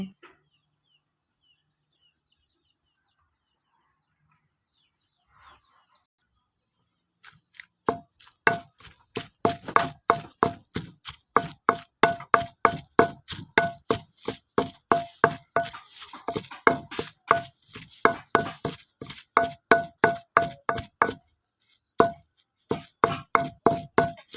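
Boiled fish being pounded in a mortar for a Thai fish dip, a steady run of sharp, close thumping strikes in quick rhythm after a quiet opening, with brief pauses between bursts.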